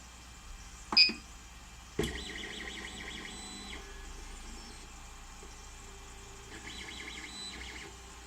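An Ender 3 3D printer's stepper motors drive one axis, giving a steady electronic whine with a few pitched segments, preceded by a couple of sharp clicks near the start.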